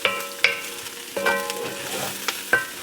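Tomato olive rice fries in a pan, popping and sizzling with sharp crackles every half second or so over a steady hiss, close and clear with no talk.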